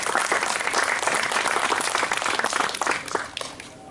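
Applause from an audience at a heritage-day historical presentation, lively clapping that stays strong for about three seconds before thinning out and fading.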